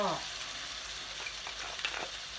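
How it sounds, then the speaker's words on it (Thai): Pad Thai noodles with shrimp stir-fried in a hot pan with a splash of water, a steady close hiss of frying with light stirring scrapes and a brief voice at the start. "เราต้องผัดเส้นให้นิ่ม เคล็ดลับก็คือ เราใส่น้ำลงไปนิดนึงค่ะ"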